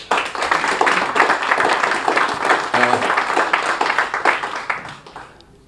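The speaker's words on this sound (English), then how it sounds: "we ought to give you a rapturous round of applause" Hearty applause greets the Harmony of the Seas cruise ship at a welcome ceremony in St. Kitts, close, lively clapping with some individual hand claps standing out before it tapers off.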